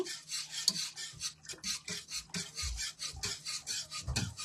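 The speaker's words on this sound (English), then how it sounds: "So this is the longest part, is the stirring part." Chocolate syrup being stirred in a pot on the stove, a steady rhythmic scraping and rubbing of the spoon against the pot that repeats in quick strokes, close and fairly loud, with no talk.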